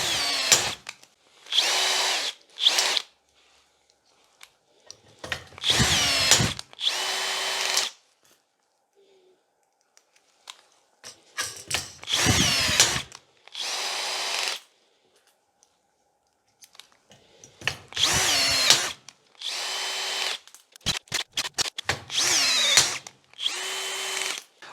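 A cordless screwdriver fitted with a RAGE by VIRA rivet nut attachment whirs in repeated short bursts, each a few seconds long, separated by quiet pauses and small clicks, ending in a quick series of rapid spins.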